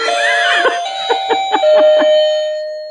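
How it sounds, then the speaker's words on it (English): A household doorbell rings out a clear chiming tone that holds and rings on, with a few short sharp sounds, likely laughter or coughs, breaking in over it before the chime fades. "Like my doorbell."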